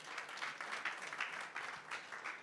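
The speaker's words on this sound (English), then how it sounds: "with a round of applause, he makes his way here" An audience at an aviation panel discussion applauds as the airport services director and moderator walks up, a steady patter of many hands clapping at moderate volume with no talk over it.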